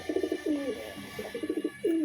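Pair of tumbler pigeons kept at home cooing close by, several throaty rolling coos in quick bursts with short pauses between, no talking.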